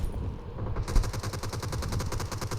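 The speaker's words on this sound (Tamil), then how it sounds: "வேறு 2 புல்லட் அடிச்சிருக்கேன் டொம்முன்னு சாவல" Rapid bursts of gunfire crack out in quick succession, loud and close, with a sharper shot standing out near the start and steady repeated firing continuing throughout with no voices.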